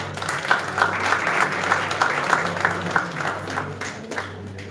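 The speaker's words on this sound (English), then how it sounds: "A huge round of applause and ribbons." Applause from the audience at the ICAMC 2025 conference award ceremony, many hands clapping steadily with a lively, even rhythm and a low hum underneath, fading slightly toward the end.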